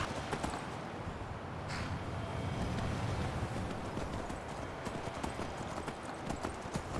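Horse hooves clip-clop steadily in the Skyrim video game as a mount moves along, close and fairly loud against a busy ambient game background.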